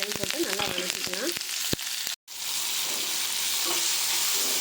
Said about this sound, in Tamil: வெங்காயமும் கருவேப்பிலை தலையும் போட்டு நல்லா வதக்கிக்கலாம்